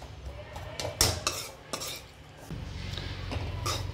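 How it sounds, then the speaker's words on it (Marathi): A spatula scrapes and knocks against a pan while breaking up lumps of roasting wheat flour, giving several sharp close clinks and scrapes over a low steady rumble. "अशा प्रकारे मी गोळे फोडून घेत आहे."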